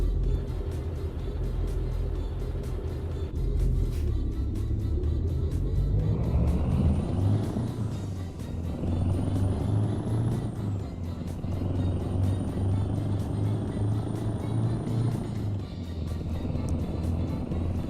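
A truck engine drones in American Truck Simulator, a loud, steady low rumble that swells and eases through gear changes, with thin high tones drifting above it and no talk.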